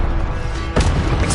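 An Incendio fire spell cast in Hogwarts Legacy: a steady roaring rush of game sound, then a sudden thumping impact partway through that lingers as a loud, dense burst.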